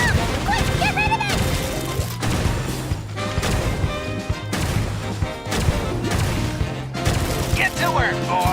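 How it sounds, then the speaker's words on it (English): A bomb blowing up during a quest in the video game Genshin Impact, with crashing impacts and bursts over dense, loud game music and voice lines. "Ah, it's a bomb!"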